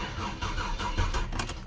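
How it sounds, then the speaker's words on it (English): The LS V8 engine swapped into an S197 Ford Mustang cranks over with a rough, rhythmic churning from the starter, close up and steady, with no voices. "you'll be able to hear the engine turning over"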